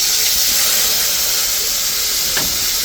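Ginger-cumin paste hits a hot pan in a home kitchen and sizzles with a loud, steady hiss that stays unbroken from start to finish.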